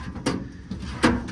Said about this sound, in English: These drawers are okay. They slide pretty nicely.